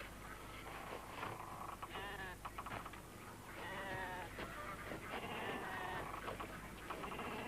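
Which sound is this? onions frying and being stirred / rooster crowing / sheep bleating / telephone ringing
sheep bleating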